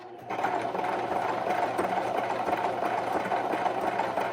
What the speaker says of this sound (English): I'm going to sew right along this little line here.